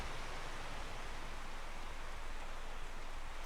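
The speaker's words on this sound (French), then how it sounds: "Ah bah il pleut" Rain in the video game Lost in Blue, a dense, even hiss of falling water that holds steady throughout with no voices over it.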